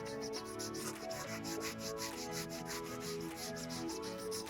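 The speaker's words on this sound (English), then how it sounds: "And then you'll just basically rub it in back and forth." Tire protectant is rubbed back and forth into a car tire by hand, making a quiet, steady scrubbing friction that runs continuously at low level, with no voices.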